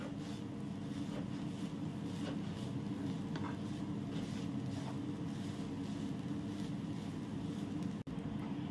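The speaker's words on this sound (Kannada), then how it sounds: "ಇದನ್ನು ತೆಂಗಿನಕಾಯಿ ಸ್ವಲ್ಪ ಕ್ರಿಸ್ಪಿ ಆಗುವ ತನಕ ಫ್ರೈ ಮಾಡಿಕೊಳ್ಳುವ" Grated coconut fries in a pan until crispy, giving a faint, even sizzle with soft stirring scrapes throughout.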